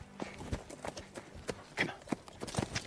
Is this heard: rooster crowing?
no